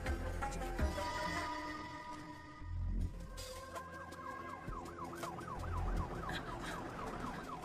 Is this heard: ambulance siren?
yes